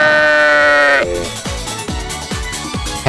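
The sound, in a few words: goat bleating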